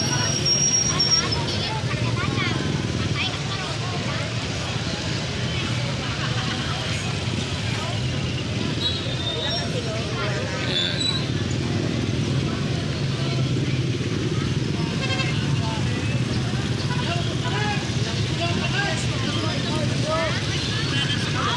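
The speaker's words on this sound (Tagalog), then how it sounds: "Grabe ang traffic." Dense, steady traffic noise from a heavy jam in Isulan, with car and motorcycle engines droning continuously under background chatter and crowd murmur; no distinct horn blasts stand out.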